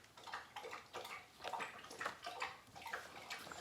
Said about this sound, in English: Gunner getting a drink of water